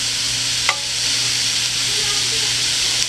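Diced onion and celery cook in a pot for seafood gumbo, a steady soft sizzle with a few scrapes and taps from a spatula stirring the vegetables, close and without talk.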